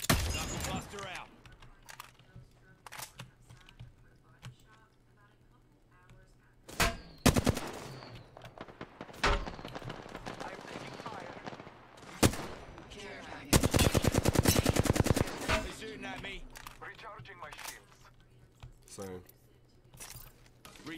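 Video game gunfire while being shot at comes as sharp bursts of rapid automatic shots, some long dense volleys and some single cracks, mixed with game voice lines and clicks over a low steady hum.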